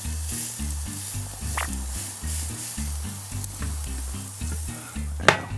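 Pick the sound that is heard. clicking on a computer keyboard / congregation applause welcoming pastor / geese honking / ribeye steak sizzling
ribeye steak sizzling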